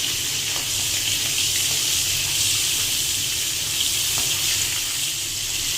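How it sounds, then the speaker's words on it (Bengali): Prawns fry in hot oil with tempering spices in a pan as they are gently stirred, giving a loud, steady close sizzle with faint scraping and clicks from the stirring. "চিংড়ি মাছটা দিয়ে হালকা নাড়াচাড়া করে ভেজে নেব।"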